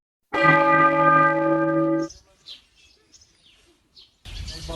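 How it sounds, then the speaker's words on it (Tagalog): A church bell rings in its tower, one sustained resonant toll that hangs for nearly two seconds and fades, followed by faint bird chirps and then a burst of noise. "tumunog ang kampana"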